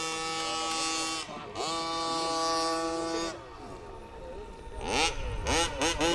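HPI Baja 5B gasoline RC car engine with Badlands tires, revving loudly and steadily with a rising whine, then dropping and surging again in sharp bursts near the end.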